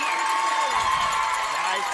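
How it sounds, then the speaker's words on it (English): A crowd at a baseball game between Newcastle and Sallisaw State claps and cheers steadily, a broad wash of applause from a distance, briefly. "And he gets the applause from the Sallisaw faithful that came to play."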